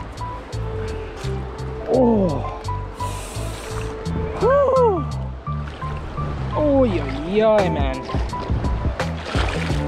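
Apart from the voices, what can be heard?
wading into a cold creek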